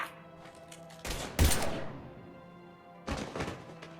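Gunfire in the Mass Effect 3 video game: two short bursts of rapid, thumping shots, the first sharper and louder, the second a few seconds later, over a quiet hum.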